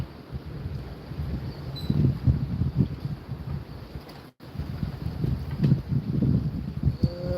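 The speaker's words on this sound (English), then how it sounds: "here comes the wind again." Wind gusts outdoors at night in a wooded cove, rising and falling in low buffeting swells against the microphone, with a brief dropout midway and faint rustling.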